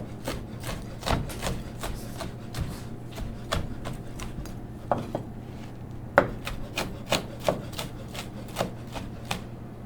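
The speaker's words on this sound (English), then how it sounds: "We're going to take that bacon that we cooked earlier and just give it a rough chop here on" A knife roughly chopping cooked bacon on a cutting board, in a steady run of sharp, close taps and thuds against the board with short pauses, over a low steady room hum and with no talking.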